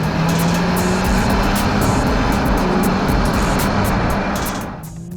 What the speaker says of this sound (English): once on, the V6 engine sounds okay in the cabin.